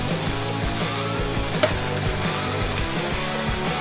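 String beans sizzle steadily in a hot pan with red wine vinegar, a continuous loud crackling fry with a faint scrape of stirring partway through.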